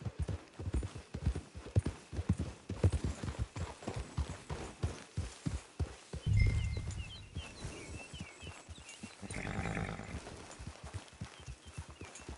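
Horse hooves clip-clop steadily in Red Dead Online as a horse trots toward a camp, the rhythmic footfalls close and continuous, with a brief louder rumble midway.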